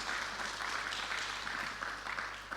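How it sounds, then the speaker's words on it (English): Applause at a stakeholders' validation session on a draft national policy, a steady roomful of clapping heard at moderate distance, fairly quiet and sustained throughout. "I think he deserves a round of applause for that."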